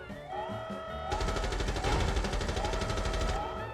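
Sustained automatic gunfire in the Rainbow Six Mobile tactical shooter, a fast, even rattle of shots bursting in loudly after a quieter opening and continuing to the end.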